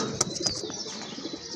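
A pair of two-coloured pigeons coos softly nearby, broken by a couple of sharp clicks or wing taps early on.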